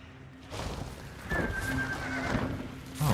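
A horse whinnies loudly with a rising, wavering call over a steady low rumble, followed by a brief thud near the end, in the video game Hunt: Showdown 1896.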